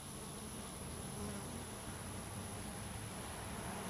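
Bumblebees buzzing close by outdoors near an open feeding spot where bees rob honey, a steady continuous droning hum that holds for the whole stretch without any talking.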